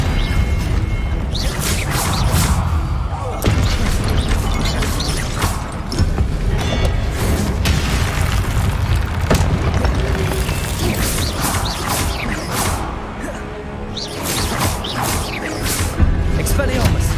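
Hogwarts Legacy spell combat with the Expelliarmus charm: dense, continuous clashes, whooshes and crashing impacts layered thickly together, with shouted voices mixed into the busy game action.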